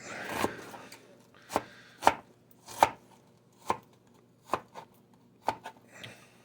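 A knife chopping through an onion on a board for chicken soup, seven or eight distinct, evenly spaced cuts, close and clear against a quiet background.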